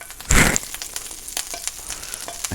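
Butter hits a hot pan on medium-low heat for pancakes, giving a loud, bright sizzling burst near the start that settles into a steady, softer crackle with scattered pops, close by with no talking.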